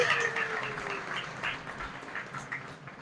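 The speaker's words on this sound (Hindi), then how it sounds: "जोरदार तालियां कृष्ण के लिए।" A crowd at a Janmashtami devotional class gives a burst of applause for Krishna, with steady overlapping clapping at moderate volume that fades slightly over a few seconds.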